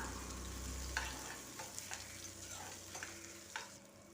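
Onion and a few garlic cloves sautéing in a pan, a soft continuous sizzle broken by regular scraping stirs and light taps of the spoon, heard up close without speech.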